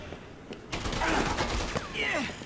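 Gunfire in the zombie game Dead Rising 2: Off the Record, a rattling burst of shots crackling through the game mix for about two seconds after a quiet start.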